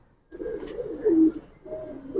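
Giribaz and coloured pigeons cooing close by, a few soft, low throaty coos in quick succession after a brief silence.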